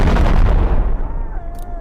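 Loud gunfire in the video game Animal Company: a sharp, booming shot that rings out and decays, followed by a faint whining tone.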